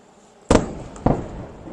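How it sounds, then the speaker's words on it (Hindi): Missile attack explosions over Tel Aviv: two sharp, loud blasts about half a second apart, each with a brief rumbling decay, standing out against a quiet background. "तो टेल अवीव दहल गया है मिसाइल के धमाकों से"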